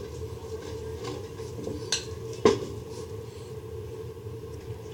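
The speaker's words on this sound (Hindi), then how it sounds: "ये मैंने चम्मच से इसको और मैश कर दिया, ताकि डो अच्छी तरह मिक्स हो जाए" A spoon mashes and scrapes a semolina and potato dough in a bowl, a low steady rubbing broken by two sharp clinks of metal against the dish.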